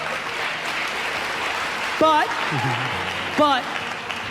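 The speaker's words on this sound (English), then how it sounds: "There's the parents clapping." Parents in an audience clap together in steady, dense applause, a continuous wash of hand claps heard under a speaking voice and a few brief tonal sounds.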